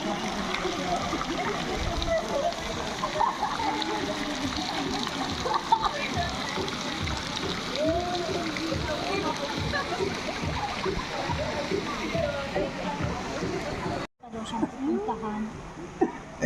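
Water splashes continuously in a swimming pool, a dense, busy wash of sloshing and splatter that runs throughout with faint voices mixed in. It breaks off briefly near the end before resuming.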